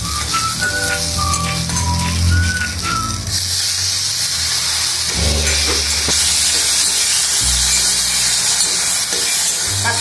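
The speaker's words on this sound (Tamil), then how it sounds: "முடக்கத்தான் கீரை கொஞ்சம் வதங்கி பச்சை வாசனை போற கொஞ்சம் வதங்கினவொடனே பூண்டு ஒரு 4 பல்லு போட்டு" Mudakathan greens and garlic sautéing in a hot pan, a steady loud sizzle and hiss that runs the whole time, with whistly tones and clatter near the start.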